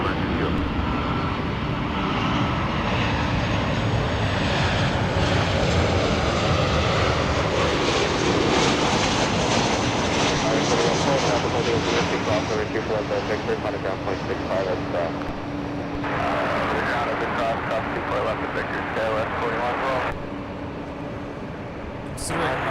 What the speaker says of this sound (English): We have an American 777-200 on the north side.